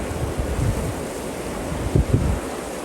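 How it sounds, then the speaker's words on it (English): Blizzard wind in Arizona roars steadily and loudly into the microphone, with a few stronger gusts buffeting it. "We got a blizzard in Arizona."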